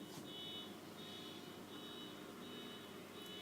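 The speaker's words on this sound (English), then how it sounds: "I like the car alarm going off in the background." A car alarm chirps in a repeating beep pattern far off in the background, faint and steady throughout.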